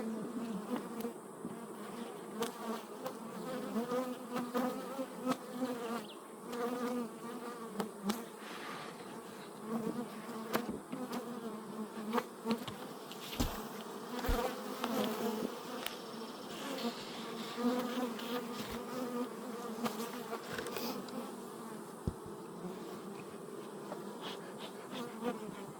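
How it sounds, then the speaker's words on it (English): Honeybees buzz in a dense, steady drone as they are shaken off a hive frame during a hive inspection, loud and close throughout with occasional sharper knocks and no talk. "Shake all those bees off and then I'll get this out of the way."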